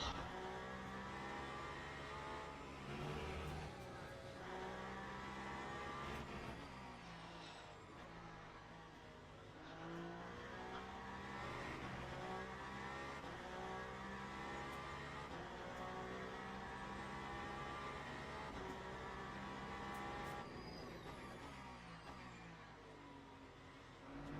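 A BMW race car engine in a racing video game, revving continuously with a buzzing harmonic whine that rises and falls through gear changes, loud and close throughout.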